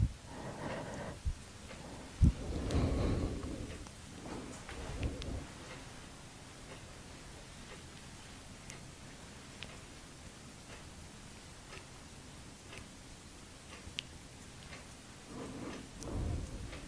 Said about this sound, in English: little drops of rain.